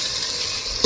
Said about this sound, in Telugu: మంచిగా వేగనివ్వాలి నూనెలోనే